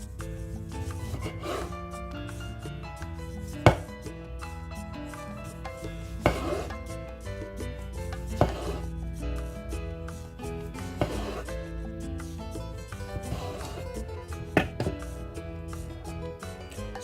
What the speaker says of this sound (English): So next I'm going to cut my tomatoes still into thin slices